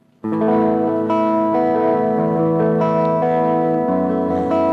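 An electric guitar strums sustained chords on a clean tone through a Marshall Valvestate VS30R amplifier, loud and clear with a touch of echo, ringing continuously without voices.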